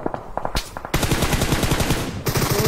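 Rapid bursts of video game machine-gun fire, loud and close, with a short pause near the start before a sustained volley.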